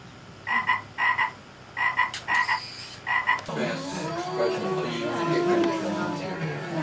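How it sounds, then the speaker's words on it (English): Frogs croaking in short paired bursts, about six repeated calls over the first few seconds, followed by a denser chorus of overlapping croaks and chirps that fills the rest. "That's how we're getting some frogs."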